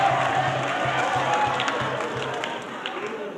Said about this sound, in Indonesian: Kita beri aplaus yang meriah